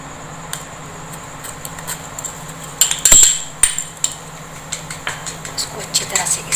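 A spoon stirs milk with dry milk powder added for homemade yogurt, giving sparse metallic clinks and scrapes against the pot, with a louder cluster of knocks midway over a steady low background hum.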